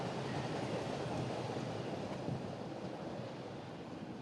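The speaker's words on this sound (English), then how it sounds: "I'll let this train go. So here we can see a brown line." A Chicago L Brown Line train passes near Lincoln Square, heading outbound. It gives a steady, broad rushing rumble at moderate distance that fades slightly toward the end, with no talk.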